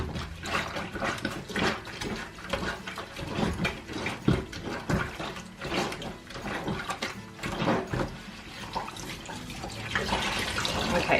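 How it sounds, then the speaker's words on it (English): Tap water running into a sink while fabric is rinsed for quilt making, a continuous splashing flow with sloshing and dripping bursts throughout, close and fairly loud with no talking. "I'm going to rinse it in a minute."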